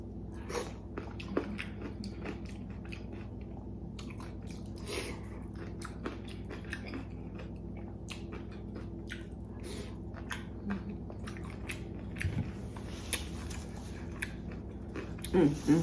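Shrimp from a seafood boil in tangy lemon sauce being eaten up close: wet squishy bites and chewing with soft clicks and smacks, irregular and continuous, with no talking.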